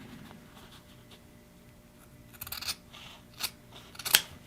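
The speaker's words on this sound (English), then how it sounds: "I'm just going to cut straight up the middle." Scissors snipping through pool table cloth at a pocket, a few quiet crisp cuts growing sharper toward the end, close up after a stretch of low background rustle, no voices.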